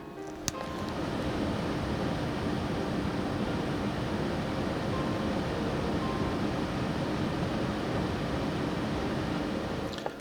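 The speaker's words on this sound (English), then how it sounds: "This is the sound of the AIO and the fans and the pump." Steady broadband whir of a failing MSI 240R AIO liquid cooler's fans and pump in an i7-12700K PC under a rendering load, an even constant rush with a faint tonal hum, unbroken for about ten seconds.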